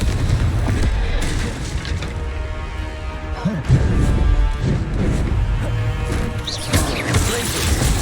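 Spell impacts and explosions from combat in the video game Hogwarts Legacy, dense booming crashes and thuds layered over a rumbling background, with a voice calling out during the fight.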